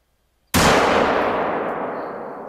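A single rifle shot at a whitetail deer in the hunting game theHunter: Call of the Wild, loud and sharp after a quiet moment, with a long rolling echo trailing away behind it.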